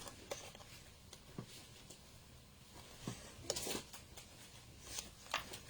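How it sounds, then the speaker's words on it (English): A few quiet, crisp snips of scissors cutting through card, spaced apart against a soft background. "I'm just going to snip that with my scissors"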